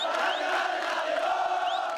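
Football crowd of Flamengo supporters gathered before a team training session, a dense continuous roar of cheering and shouting with scattered whoops, steady and loud throughout.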